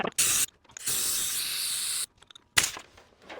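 Air chuck hissing in short bursts as it fills a truck's air bag suspension, with three separate blasts of pressurized air of roughly a quarter second, a second, and a brief final puff, close to the microphone.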